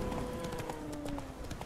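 Horse hooves clip-clop steadily in The Witcher 3 video game, a quick run of faint hoofbeats over game ambience and background music.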